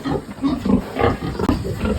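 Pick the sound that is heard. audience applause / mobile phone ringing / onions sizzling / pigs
pigs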